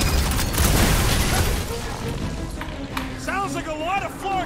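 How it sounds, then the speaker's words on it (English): Heavy booms and bursts of gunfire in the Guardians of the Galaxy video game, loud and dense at first, then easing as character voices talk over the action. "Sounds like a lot of flarking gunfire!"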